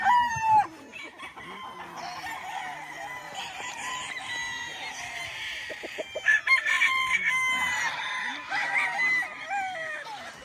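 Roundhead Kelso Allen pullets and roosters on a mountain farm: a nearby rooster crows loudly at the start, with more crowing and clucking from several birds following in overlapping bursts.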